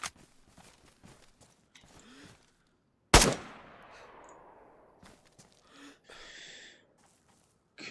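A single loud, sharp gunshot from a four-shot weapon in the video game DayZ cracks out and decays with a lingering tail, surrounded by quieter clicks and brief electronic game sounds.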